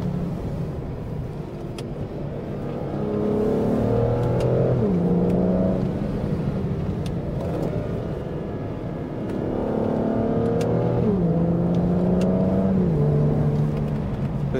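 A 2006 Aston Martin DB9 Volante engine revs up through the gears, rising in pitch, dropping at each paddle shift, then climbing again; loud and close, with no talking.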